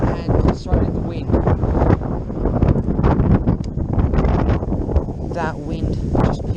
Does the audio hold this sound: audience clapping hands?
no